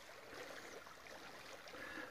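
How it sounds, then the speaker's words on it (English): Borden Creek flowing along the Sipsey River trail, a very faint, steady wash of running water with no voices or other sounds over it. "here's Borden Creek, which I gotta take off my boots and get across it"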